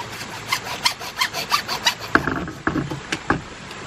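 A handsaw cuts through PVC pipe in a series of quick, rhythmic rasping strokes, close and fairly loud, with no voices.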